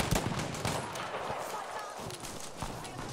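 Gunfire in the video game Battlefield V, with rapid bursts of shots running continuously under a voice talking.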